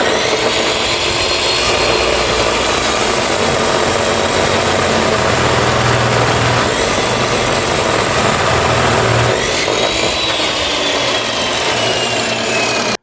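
A chop saw cutting through a piece of scrap steel for a crawler bumper, a loud, steady grinding whine with harsh broadband hiss that continues unbroken for the whole stretch.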